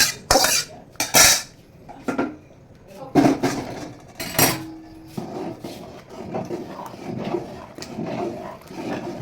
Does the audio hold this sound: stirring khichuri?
yes